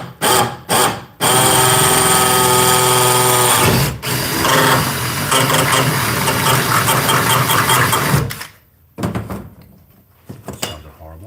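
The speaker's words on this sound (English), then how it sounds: "Now I can drill the bottom part." A power drill whines loudly for several seconds in sustained bursts, drilling into the bottom of a jon boat, with brief pauses and a few short clunks and starts before and after.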